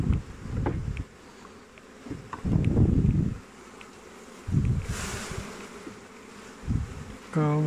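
Honey bees buzz in loud bursts as a beekeeper in New Zealand shakes hive frames, dense close droning swelling and fading several times, with a brief beep at the end.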